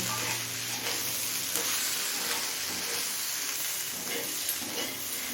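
Mixed vegetables frying in a pan over a medium flame, a steady close crackling sizzle with occasional scraping stirs and utensil knocks, no voices.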